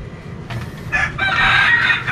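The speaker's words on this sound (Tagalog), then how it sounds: "Naglilimlim na manok." Chickens, including a brooding hen, cluck and crow nearby in a farmyard, a few overlapping calls growing louder midway, with faint outdoor background noise and no talking.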